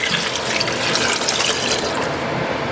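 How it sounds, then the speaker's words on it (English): Chicken broth poured into a pot for a chicken gnocchi soup, a continuous loud splashing pour close up, steady throughout with no voices. "it's time to add your chicken broth"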